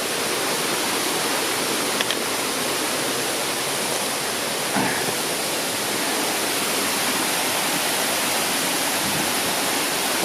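Deer Creek, a steep Adirondack mountain stream, rushes in a steady broadband roar, close and constant throughout with no voices.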